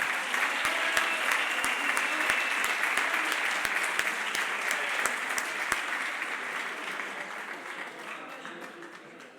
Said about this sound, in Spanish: Un aplauso para Albert Soler, 2 minutos y seguimos.